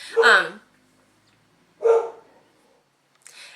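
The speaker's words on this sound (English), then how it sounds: "the mailman's outside. The dogs are going to go nuts." Dogs barking indoors at a mailman outside, two loud separate barks a second and a half apart with a third starting at the end, close by and otherwise quiet.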